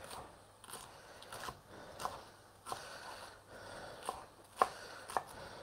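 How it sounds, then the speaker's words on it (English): Vegetables for minestrone soup are chopped with a knife on a board, sparse sharp cuts at irregular intervals, close and fairly quiet against a faint room hum. "This is all about chopping today. Chopping."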